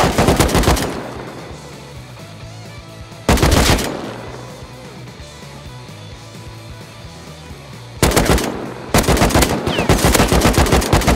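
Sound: gunfire in the video game Rust

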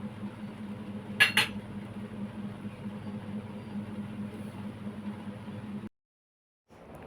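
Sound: peanuts being roasted in a pan

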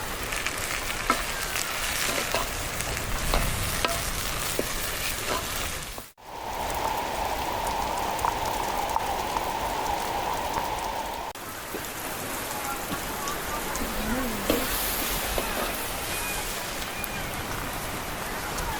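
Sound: rain falling

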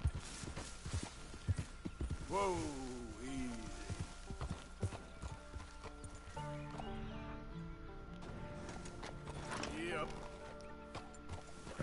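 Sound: horse hooves walking in the video game Red Dead Redemption 2

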